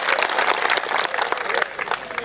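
Dense applause from the audience at a Hindi comic poetry gathering, a steady wash of many hands clapping close by that runs the whole time with voices mixed in.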